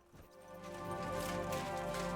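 A spectral horse appearing at midnight in Kingdom Come Deliverance, a brief eerie swell that rises from quiet into a sustained airy rush with faint hoof-like clatter underneath.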